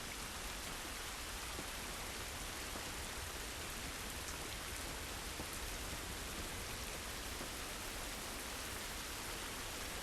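Steady rainfall in The Last of Us Part 2, a dense continuous hiss of drops on surfaces, even and unbroken, fairly soft and with no voices over it.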